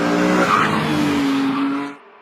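A homemade Formula One style car with front and rear wings, built by a young driver in Tanzania, roars close by with loud, sustained tire squeal as it skids, then cuts off abruptly.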